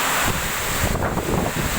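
Strong, steady wind from a typhoon roars and buffets the microphone continuously, a loud broad rush with no other clear sounds.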